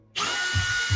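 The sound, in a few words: power drill removing screws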